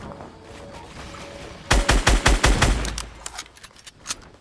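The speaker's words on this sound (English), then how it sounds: "Minigun on him." Minigun fire in an online video game: a rapid burst of loud shots rattles for about a second and a half, then trails into scattered lighter hits and fading echoes, with no talk.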